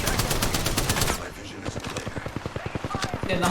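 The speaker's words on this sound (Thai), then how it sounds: "เอายิงจากไหนเนี่ย" Rapid automatic gunfire in the video game Apex Legends, an intense burst of dense shots followed by a steady crisp rattle of evenly spaced rounds, close and loud, with a voice talking over the action.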